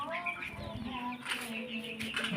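Chickens cluck in short repeated bursts amid a busy farmyard, with other animal noise and some voices in the background.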